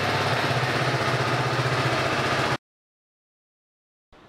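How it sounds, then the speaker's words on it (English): A motorcycle engine idles with a steady, chugging mid-range throb for a couple of seconds before the sound cuts off abruptly, then briefly resumes. "So I'll be starting my motorcycle and let it run for around 2 to 3 minutes."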